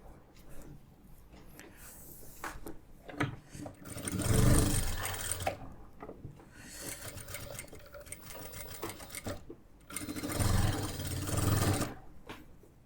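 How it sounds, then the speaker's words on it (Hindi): A sewing machine stitches transparent fabric in bursts, its rapid mechanical chatter rising loud for several seconds, pausing, then running again, with quieter handling between runs. "इसको बस इस तरीके से सिलाई लगा लेनी है पहले"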